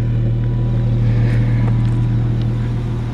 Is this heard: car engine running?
yes